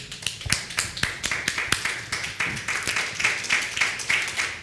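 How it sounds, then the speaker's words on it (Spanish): A small church congregation claps in a quick, steady rhythm, individual hand claps standing out close by rather than blending into a roar. "Un aplauso."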